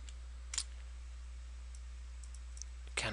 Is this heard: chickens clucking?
no